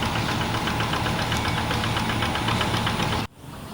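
A tractor fitted with a single-furrow plough attachment runs close by with a steady, knocking engine throb that cuts off abruptly near the end.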